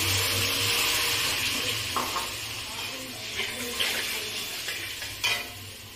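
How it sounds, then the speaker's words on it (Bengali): Spices for moong dal with fish heads sauté in a pan with a little water, giving a soft sizzle under repeated scraping stirs and light clinks, fairly close and with no talk. "এবার মশলাটাকে ভালো করে কষিয়ে নেব"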